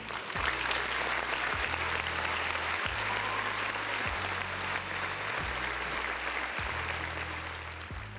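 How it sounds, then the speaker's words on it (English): Canned applause sound effect played on a livestream: a steady, dense wash of crowd clapping that holds at even loudness throughout, alone without talk. "another round of applause for the folks in the chat"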